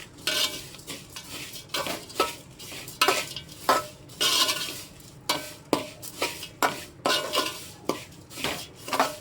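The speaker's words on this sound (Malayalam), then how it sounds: "അണ്ടിപ്പരിപ്പും കിസ്മിസും ഒന്ന് ചേർത്ത് മിക്സ് ചെയ്ത് കൊടുക്കുക" A utensil scrapes and clinks against a pan in repeated stirring strokes, steady and close, with a faint sizzle underneath, while fried flattened rice is mixed with cashews and raisins.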